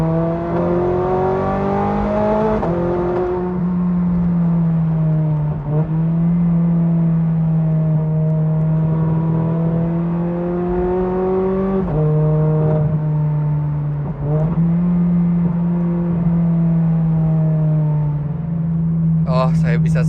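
A Ferrari 430 tuned to 777 hp, heard from inside the car as the engine sounds from the rear: a loud, steady, rich drone that swells and dips slightly with throttle, continuous and close.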